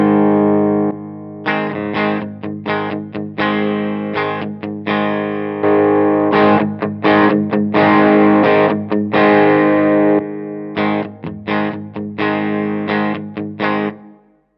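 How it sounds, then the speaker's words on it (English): Electric guitar through an Iridium amp with an Ibanez Tube Screamer, bursts of driven chords alternating with short pauses, some phrases grittier and more pushed than others, played alone at steady moderate loudness. "I'm just going to turn the tube screamer on and off so you can hear how much it's pushing each amp."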